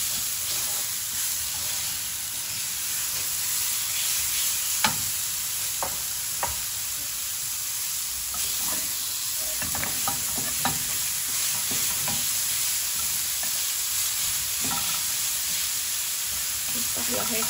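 Garlic and onions frying in oil and a little ghee for shishbarak, a continuous hiss of sizzling with scattered stirring clicks and scrapes, moderately loud throughout without speech.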